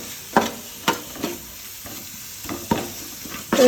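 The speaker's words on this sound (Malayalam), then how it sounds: "ഇനി അതിലേക്ക് മല്ലിപ്പൊടി ഇട്ട് കൊടുക്കാം ഇതിൻ്റെ പച്ചമണം മാറുന്ന വരെ നന്നായിട്ടൊന്ന് ഇളക്കി കൊടുക്കാം" Chili and coriander powder stirred in a pan for prawn and drumstick curry, with a spoon scraping in several distinct strokes over a faint sizzle; no voices.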